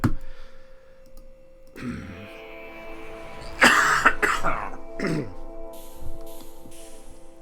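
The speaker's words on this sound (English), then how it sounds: "I'm really sorry about coughing" A person coughs several times in short, harsh bursts, close to the microphone, with pauses between fits and some throat clearing and faint clicking in the background.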